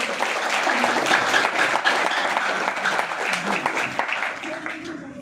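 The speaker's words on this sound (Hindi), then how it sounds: "तो एक बार जोड़े वाले के लिए ताली बजाइए" A seminar audience applauds steadily, a dense wash of clapping from many hands that tapers slightly toward the end, with faint voices underneath.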